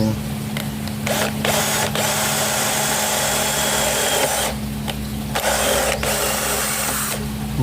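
A power drill fitted with a steel bit bores into a thick wooden tabletop during a crack repair, a steady loud mechanical whir with a constant low hum, broken by several brief pauses.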